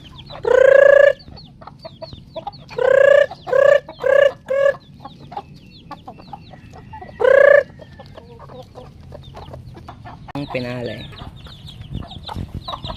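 Paroakan chickens cluck and squawk loudly and close by as they are fed: several sharp bursts come in quick succession, a last loud call follows, then quieter scratching and pecking noises.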